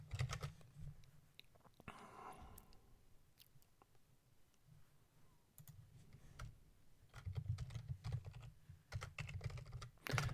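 Typing on a computer keyboard during a programming session, bursts of quick key clicks with pauses between, fairly close and quiet, with no talk.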